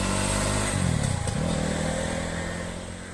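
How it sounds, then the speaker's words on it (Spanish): A Fantic Caballero Rally 500 motorcycle engine idles with a low, throbbing rumble, revs briefly, then settles and fades slightly. "¡Qué bonita moto! ¡Qué bien suena!"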